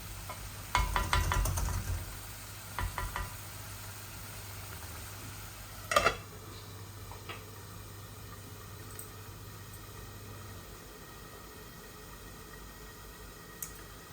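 Koi fish set into hot oil in a kadai, for a curry with radish, sizzles loudly for the first two seconds, then settles into a softer, steady frying crackle with a brief sharp pop near the middle.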